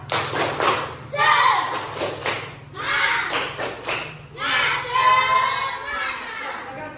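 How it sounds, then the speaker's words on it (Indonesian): Classroom group of pupils in a coding and computational-thinking lesson performs a rhythmic spirit clap, bursts of patterned claps and thumps alternating with children's shouting and chanting, fairly close. "Berikan dia tepuk semangat."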